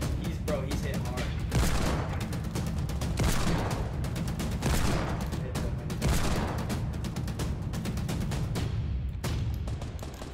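Repeated bursts of gunfire in the battle royale game Fortnite pop in dense, rapid volleys throughout, with a few heavier thuds, while players talk excitedly over the shooting.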